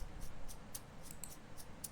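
A shaker stem, panned right with no EQ, gives quick, even, soft high rattles in a steady rhythm, faint over a low noise floor.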